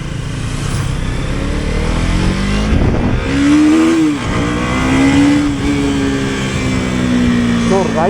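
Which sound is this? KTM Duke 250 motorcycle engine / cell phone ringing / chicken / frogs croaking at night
KTM Duke 250 motorcycle engine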